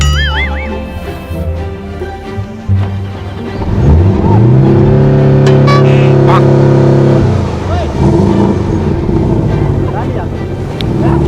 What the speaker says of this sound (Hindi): अबे कौन स्टार्ट कर रहा है इसको?